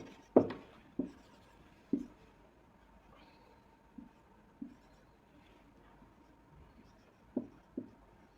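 Handwritten strokes of a formula during a trigonometry lesson: a series of short, separate scratchy marks, fairly close and clear, spaced irregularly over a quiet background with no talking.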